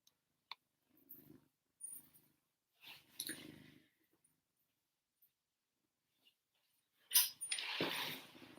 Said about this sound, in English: She's purring and meowing at you.